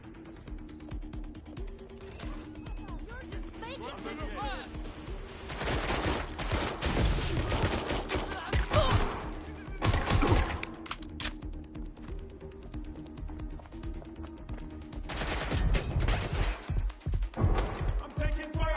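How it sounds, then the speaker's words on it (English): Gunfire from the video game Watch Dogs: Legion, heard as rattling bursts and scattered shots over a steady game background. The shots swell in loud clusters and then ease off, with no voice over them. "I'm taking fire."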